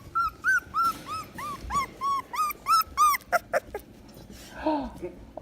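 Vizsla puppies at three weeks old whimper and whine in a rapid run of high, rising-and-falling cries, close and fairly loud, then a few sharper yips with a voice cooing briefly near the end.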